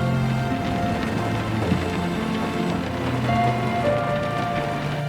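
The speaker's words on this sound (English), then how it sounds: "The sound of rain hitting the window of a car." Rain patters against a car window in a steady, dense drumming that holds close and even throughout, with no voices.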